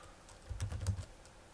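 A short burst of about five or six soft computer keyboard keystrokes, close and muted, over a low background hum.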